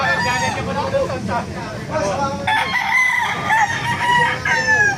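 A pumpkin sweater gamefowl rooster crows repeatedly at a bustling poultry market, with several other roosters crowing and clucking around it amid crowd babble and talk.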